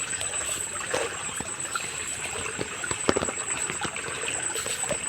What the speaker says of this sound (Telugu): ఇప్పుడైతే నీళ్ళు ఎంత ఫ్లో అయితే వస్తుంది